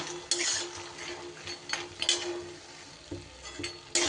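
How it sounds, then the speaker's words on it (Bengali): Lentil bori dumplings fry in oil until reddish, giving a steady sizzle with intermittent scraping and clinking as a utensil stirs them in the pan. "এই বড়িগুলোকে আমি একটু লাল লাল করে ভেজে তুলে নিব"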